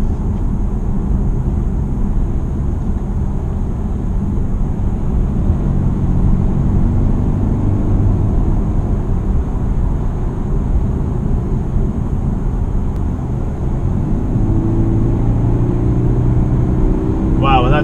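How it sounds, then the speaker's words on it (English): Inside a 2019 Volvo S60 T6 R-Design AWD, Polestar optimized, the engine holds a steady low drone under cabin noise, then a rising tone builds near the end as the turbo kicks in. "Turbo kicks in, this thing just flies."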